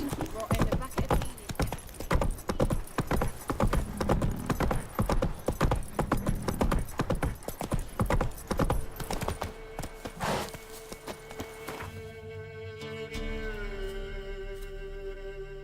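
Witcher 3 horse Roach trotting, a quick rhythmic clip-clop of hooves on hard ground, close and continuous for several seconds before stopping, with game dialogue and ambient music over and after it.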